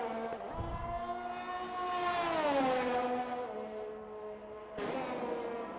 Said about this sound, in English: He's definitely revving out the gears a bit more.